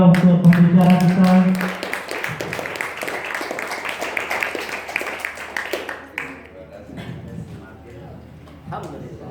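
An audience at an Islamic law event applauds a speaker, with dense clapping swelling then fading over several seconds while a host keeps talking.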